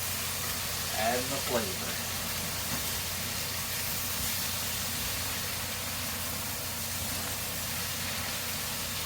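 Sausage, meatballs and garlic sizzle in a skillet with a steady hiss that runs the whole time, while a person talks briefly over the frying.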